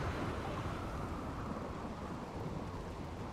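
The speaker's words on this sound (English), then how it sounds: "A little bit of a rainy thunderstorm going on" Rain and rumbling thunder from a stormy weather event in the game RimWorld, a steady, dense wash of low rumble and hiss, soft and continuous.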